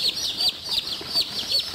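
Newly hatched Plymouth Rock and Australorp chicks peeping in a quick series of high, sharp chirps, close and fairly faint, repeating about every fraction of a second.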